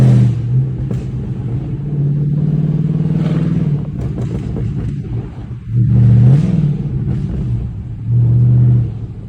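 A Chrysler 300C with a 5.7 Hemi V8 pulling hard in second gear, its deep engine roar surging loudly in several bursts with brief lulls between, heard from inside the car.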